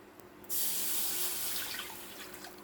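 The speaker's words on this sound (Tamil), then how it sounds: "1 கப்பு பால் ஊற்றுங்க" Milk pours into a pan on the stove for rava pudding, a sudden close liquid gush that starts loud and slowly fades over a couple of seconds, with no voices.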